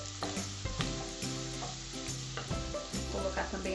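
Garlic sizzles in a frying pan for a cassava and calabresa sausage broth, a steady close crackle and hiss with occasional stirring clicks over a faint tonal background.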